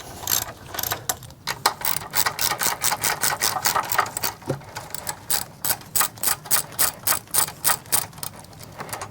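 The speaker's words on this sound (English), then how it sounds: "tighten them down" Ratchet tightening the front brake caliper mounting bolts on a 2007 Suzuki GSX-R1000: a long, close, rhythmic run of sharp pawl clicks in steady bursts, with no talking.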